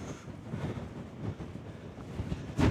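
A gale blows across an exposed hilltop, buffeting a muffled microphone with low, gusty rumbles that swell and ebb irregularly, with a sharper gust burst near the end and no speech.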